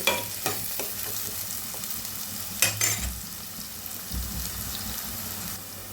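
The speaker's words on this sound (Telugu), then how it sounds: "ఇది చక్కగా మనకి గోల్డెన్ కలర్లో వచ్చే వరకు మనం ఫ్రై చేసుకుందామండి" Sliced onions fry in a pan until golden for a chicken gongura curry: a soft, steady sizzle with occasional stirring scrapes and one sharper clatter of utensil against pan.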